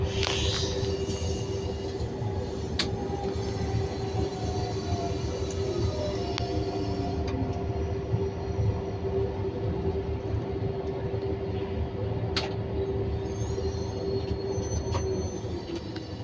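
A Z2N electric train running, heard from inside the driver's cab on a line toward Nice: a steady loud rumble of wheels on rails with a sustained tonal hum and occasional sharp clicks and squeals, continuous throughout.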